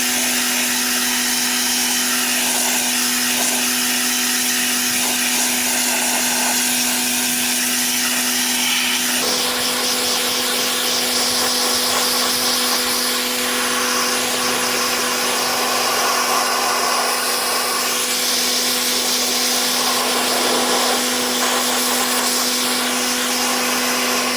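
A steady, loud hissing water spray washes the leaking air-conditioning condenser of a Benz C220 in a workshop, with a continuous high-pressure jet that shifts in tone as it moves across the fins.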